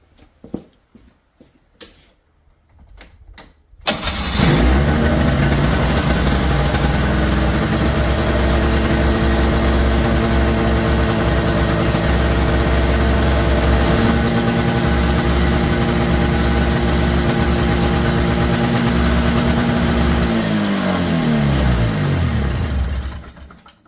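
An old snowmobile that had sat unused for over ten years restarts after a few faint clanks, then runs at a loud, steady, smoky idle for about twenty seconds before its rumble winds down and stops.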